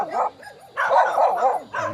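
A dog barks in two bursts near a former resort swimming pool on a farm lot in Magdalena, Laguna, with a short gap between them, fairly close and clear with no talk over it.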